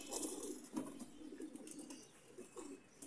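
Breeder pigeons in a loft coo softly in repeated low, rolling calls, with a brief flutter and some rustling. The sound is quiet and close, and no one speaks.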